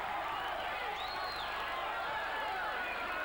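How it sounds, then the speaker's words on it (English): A boxing arena crowd at the Michael Dokes versus Jose Ribalta fight roaring and cheering at the end of a round, a steady distant wash of noise with whistles, under a commentator's voice. "And the crowd on their feet."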